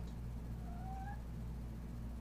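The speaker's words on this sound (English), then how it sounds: "Apparently the cat's very camera shy." A cat gives one faint, short meow partway through, set against a quiet low hum with no talking.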